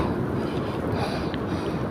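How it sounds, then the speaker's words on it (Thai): Strong wind rushes through a forest after a long rainstorm, a steady broadband roar with no gaps, close and loud like gusts buffeting the trees and the microphone. "ลมแรงเนาะ"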